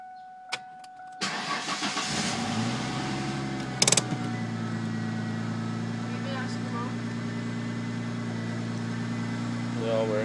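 A 1999 Ford Mustang V6 cranks and catches with a loud start, then settles into a steady, close idle with a low, even rumble that runs to the end, while people talk faintly nearby.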